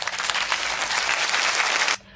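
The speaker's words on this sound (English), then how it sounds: "a round of applause for me" A brief round of applause from many hands clapping together at a steady, dense level, cut off abruptly after about two seconds.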